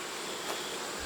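Honeybees at a hive in autumn, giving a brief steady swarm buzz, dense and continuous, close by, with no voices.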